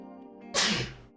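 A single sharp, breathy sneeze bursts out close by, over a soft steady musical tone in the background.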